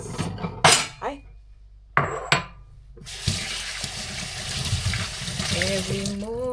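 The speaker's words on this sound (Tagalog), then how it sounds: "Hugasan na lang natin to. Itong carrots." Carrots rinsed at a kitchen sink: sharp clinks of dishes and utensils at first, then a tap runs in a steady close splashing rush while someone talks over it.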